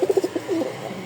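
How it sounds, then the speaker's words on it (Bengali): Pigeons cooing close by, a pair of orange Rajshahi Giribaz, with a run of short throaty coos followed by a longer rolling coo and softer murmurs. "এই হচ্ছে একটা জোড়া, খুব সুন্দর রাজশাহী গিরিবাজ, কমলা কালার"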